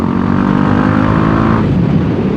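A BMW G 310 GS motorcycle engine running steadily and loud, with a close, continuous single-cylinder drone whose pitch drops slightly near the end.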